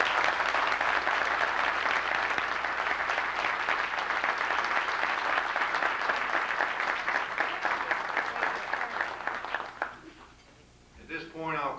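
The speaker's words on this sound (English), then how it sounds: "I'd ask you to give them a round of applause." A room full of people applauds honorees at a professionalism awards ceremony, steady loud clapping for about ten seconds before it dies down and a speaker begins talking.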